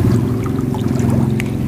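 Liquid fertilizer is poured from a container onto the growing medium around grape plants, a continuous, close, heavy watery rush with a faint trickle on top.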